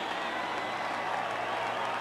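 A baseball crowd at Shea Stadium during the 1988 NLCS Game 4 cheers steadily as Dwight Gooden works with two strikes, a dense, even roar of voices and applause holding for the whole stretch without letup.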